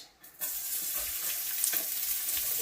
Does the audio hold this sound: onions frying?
yes